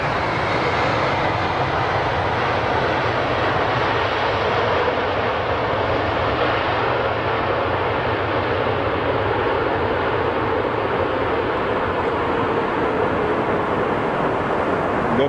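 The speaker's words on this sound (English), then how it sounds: "787th Dreamliner from Boeing." A Boeing 787 Dreamliner with General Electric engines lands at London Heathrow, its reverse thrust producing a steady, loud broadband roar that holds unbroken throughout.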